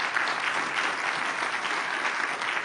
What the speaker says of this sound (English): Please join me in a big round of applause for a very inspiring panel.